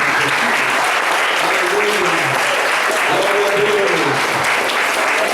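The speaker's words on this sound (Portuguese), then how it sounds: "Vamos dar uma salva de palmas." A congregation at an evening church service in Brazil claps steadily in a dense, continuous round of applause, with voices and a little speech mixed beneath it.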